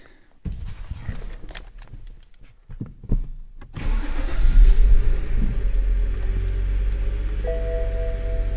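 A BMW E9X with an electrical fault, preceded by clicks and rustling in the cabin, then the engine cranks and catches, settling into a loud, steady close idle with a faint tonal chime entering late.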